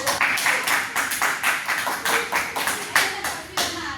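Students in a classroom clap their hands in a steady, rhythmic pattern of sharp, distinct claps, roughly three per second, close and fairly loud, with faint voices mixed in.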